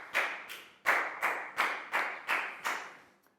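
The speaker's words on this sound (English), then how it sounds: "big round of applause for Nadia too" A classroom of pupils claps together in a Year 4 maths lesson, seven crisp, evenly spaced claps in a steady rhythm, each one sharp and then quickly decaying, ending in silence.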